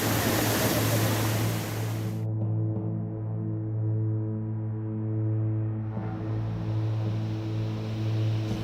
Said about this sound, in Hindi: उत्तराखंड में लगातार हो रही बारिश की वजह से यहां की नदियां उफान पर हैं